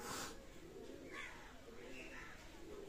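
Golden pigeons coo softly in short throaty bursts against quiet background noise, with no speech over them.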